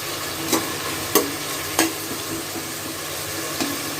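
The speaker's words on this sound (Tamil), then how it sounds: "இப்போ இந்த இஞ்சி பூண்டு பேஸ்ட்டும் நல்லா வதங்கிச்சு, வெங்காயமும் வதங்கிச்சு" Ginger garlic paste and onions sauté in a pan for kari kanji, giving a steady sizzle with four distinct ladle scrapes, the first three spaced close together and the last coming later. No voices are heard.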